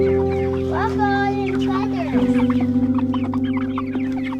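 A farm flock of chickens, bantams among them, clucks and chatters close by in a dense, continuous murmur, with sharper calls rising over a steady mechanical hum and a voice talking over it.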